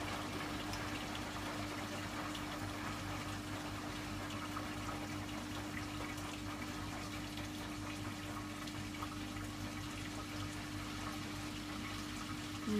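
A Hoover washing machine on a refresh wash cycle fills with water, producing a steady, faint hum and continuous rushing flow with an even tone throughout, alone without any voices.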